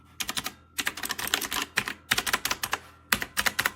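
Fast typing on an AULA F2088 typewriter-style mechanical gaming keyboard with blue switches. Crisp, loud clicky keystrokes come in rapid bursts separated by short pauses, close to the microphone and with no talking.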